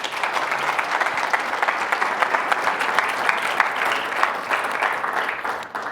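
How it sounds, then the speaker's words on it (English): A live audience at a distinguished young alumni keynote applauds two speakers, Sarah and Mindy, with steady, dense clapping that stays loud and even throughout before easing slightly at the very end. "Can we get one more round of applause for Sarah and Mindy today?"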